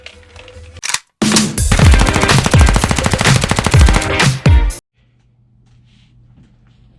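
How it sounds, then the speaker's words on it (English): Rapid pistol gunfire at an outdoor shooting range, a loud sustained burst of close shots fired in quick succession, followed by a short pause and another brief volley before quiet. "Ain't no better way than celebrating Christmas than shooting some pistols at the shooting range"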